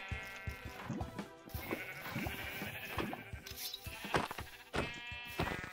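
Sheep bleat repeatedly in a foggy horror survival video game, several overlapping calls rising in a steady, close series with a few louder cries near the end.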